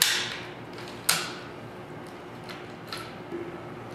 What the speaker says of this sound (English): First step is going to be remove the bolt.